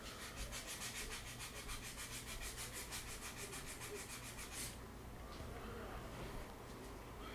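80 grit sandpaper is rubbed over a wooden piece at close range, first in quick, even back-and-forth strokes for several seconds, then settling into a smoother, continuous scraping hiss.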